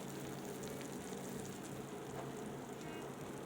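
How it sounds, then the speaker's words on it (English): Steady crackling hiss of vegan jackfruit cutlets sizzling in a hot pan, close and continuous with no talking. "it's so good that it's sizzling."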